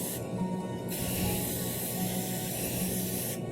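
An aerosol spray can hisses continuously while paint is sprayed onto engraved leather, a steady close broadband spray lasting a few seconds with slight pulsing, heard alone without speech.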